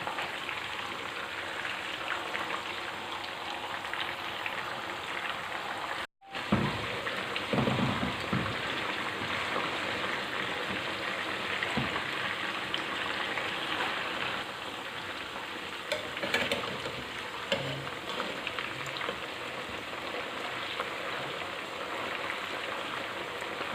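Minced meat kebabs frying in a pan, a loud continuous sizzle and crackle of oil with brief stirring sounds, heard close and without talk.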